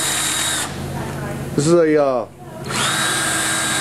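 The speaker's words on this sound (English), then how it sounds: "we just have it mounted onto a drill" A drill fitted with a 3-inch grinding disc whirs steadily, drops away briefly while a person speaks, then spins up again loud and close.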